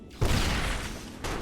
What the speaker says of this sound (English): You guys can have a flashbang